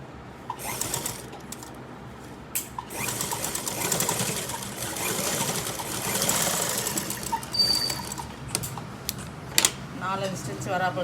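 A sewing machine runs in short bursts while stitching elastic onto the waistband of a pair of shorts, a close mechanical whir starting and stopping, with someone talking over it.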